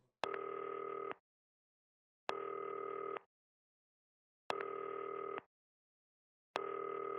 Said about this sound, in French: Il y a un téléphone qui sonne là.